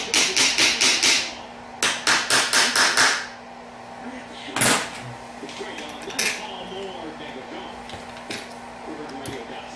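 Hammer tapping a part down into place during a Powerglide transmission rebuild: two quick rhythmic runs of sharp metallic taps, then a single louder strike and faint clinks of parts, close by.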